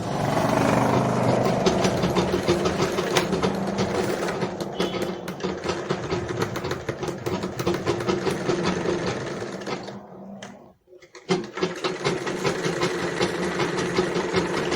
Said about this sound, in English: Start your stitching from here and stitch all the way to the other side.